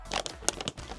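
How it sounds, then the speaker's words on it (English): A package being torn open by hand without scissors, with a few quick crinkling and tearing bursts of plastic or paper close by. "You don't need the scissors to open the package."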